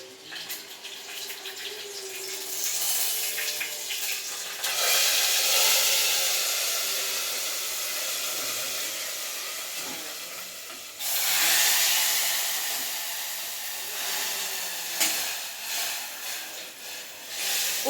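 Tempering poured into a boiling potato and brinjal curry gives a loud, steady sizzle and hiss that swells sharply twice, close and without speech.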